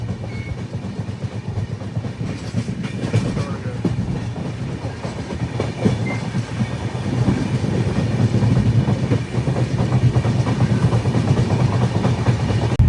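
A passenger train rolling at steady cruising speed in Rajasthan, with a continuous rumble and faint clickety-clack of wheels on rails heard from inside the coach, steady and fairly loud throughout.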